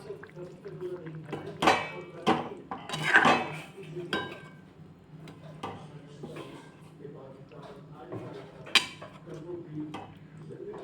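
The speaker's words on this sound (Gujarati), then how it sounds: "હવે હું બધું મિક્સ કરી દઈશ." A spoon clinks and scrapes against a pan while ras muthiya is stirred and mixed, a few sharp knocks between softer scraping, with faint kitchen background.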